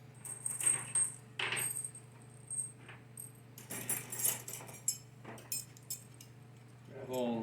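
Metal valve body bolts for a 4L60E automatic transmission being handled during reassembly, giving scattered light clinks and jingles up close over a steady low hum, with a voice speaking briefly.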